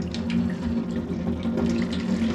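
Hot water runs steadily from a tap into a kitchen sink, a continuous close splashing rush that holds even and unbroken throughout, with no talk over it.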